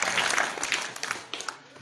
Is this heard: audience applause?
yes